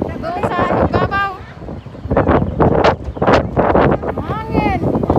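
Strong wind gusts outdoors buffet the microphone with rough, rumbling bursts, while voices talk over much of it.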